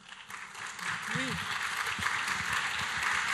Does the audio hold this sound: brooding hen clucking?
no